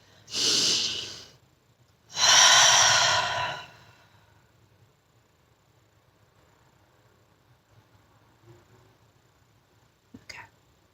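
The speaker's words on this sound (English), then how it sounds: "Deep breath again." Two long, deep breaths close to the microphone, a steady inhale followed by a fuller breathy exhale, then near silence with a couple of faint clicks at the end.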